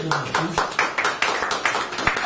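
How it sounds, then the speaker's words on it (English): A church congregation claps in rhythm for Jesus with a steady run of sharp claps, and voices sound beneath the clapping throughout. "clap for Jesus"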